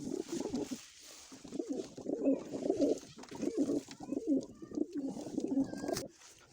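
Pigeons, some sick with colds, coo softly and repeatedly nearby in a steady, rhythmic murmur of low throaty calls, with light rustling in between.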